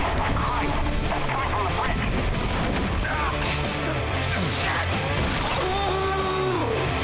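Dense, continuous roar of bombing-run explosions and crashing debris in Left 4 Dead 2, loud and sustained throughout with layered rumbling blasts, overlapping game sounds and faint voices mixed in.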